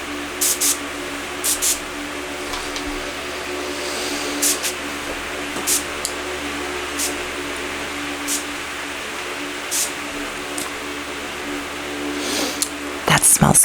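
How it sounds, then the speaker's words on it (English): Several short, breathy spray bursts from a bottle hiss in quick succession, some paired, over a low background hum. "so I'm just going to spray a little bit."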